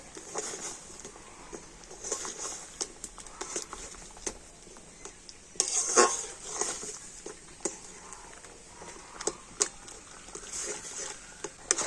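A spoon stirs rice paste and water in a pan as it thickens into a stiff dough, making irregular soft scrapes, sticky pats and sharp clicks with a few louder knocks, close by and without talk.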